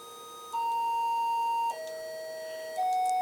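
A Brunswick synth drones with its envelope gate stuck open, holding steady pure tones that step abruptly to new pitches twice, sustaining continuously without any attack or decay.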